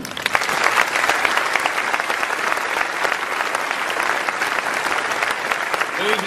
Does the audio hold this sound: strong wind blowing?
no